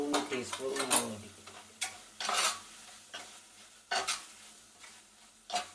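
Turmeric and chili powder fry in oil in a pan for kingfish curry, with soft bursts of sizzle and stirring scrapes and clinks of a utensil against the pan in an uneven rhythm, fairly quiet and close.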